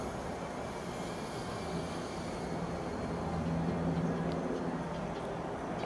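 A brushed 1S micro drone flying outdoors gives a steady, even whine and rushing hum that holds at a moderate level with little change throughout.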